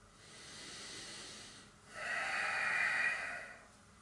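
Quiet, close breathing during a yoga breathing exercise: a soft, airy inhale followed by a longer, stronger hissing exhale, with no talking.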